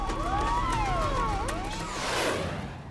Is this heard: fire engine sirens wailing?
yes